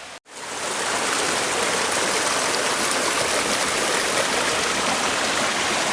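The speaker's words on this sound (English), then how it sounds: "It's like three different river channels" A Catskills river in the Big Indian Wilderness splits into several channels, making a loud, steady rushing flow that fills the scene after a brief initial dropout, with no voices.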